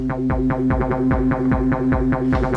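A loud, distorted synth bass pattern from a Digitakt pulses in steady repeated notes, washed in reverb that smears each hit into the next; no voices.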